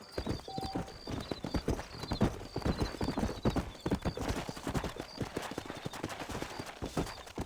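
Clip-clop hoofbeats of a horse galloping steadily in Red Dead Redemption, with a brief whinny near the start and light game effects over a dense, continuous rhythm.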